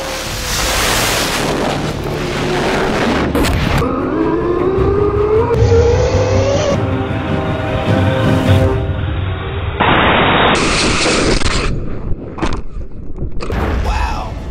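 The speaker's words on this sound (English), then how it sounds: "it's clear that the rocket car finally flew" A rocket-powered RC car, built to recreate the MythBusters rocket car, launches with a loud, close roaring whoosh and a rising whine, followed by sharp bursts and a trailing rush of noise.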